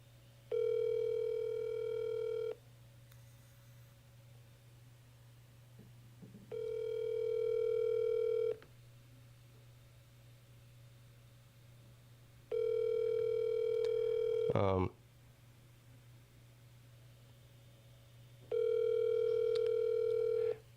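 An unanswered phone call rings out as four evenly spaced long tones, each about two seconds with pauses between, over a low steady hum, with a brief click partway through.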